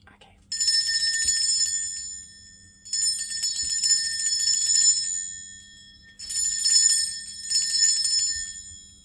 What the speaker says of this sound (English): going to ring a bell. This is just to cleanse the space around us